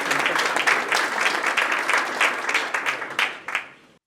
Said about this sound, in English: One more round of applause for Kamel.